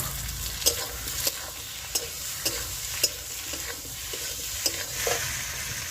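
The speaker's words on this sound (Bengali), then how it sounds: "এবার ভাজা আলুটা দিয়ে দেবো" Fried potatoes stirred with a spatula into thick spiced masala for a silver carp and cauliflower fish curry, giving a soft sizzle with sharp scraping clinks against the pan roughly every second, close and steady, no talking.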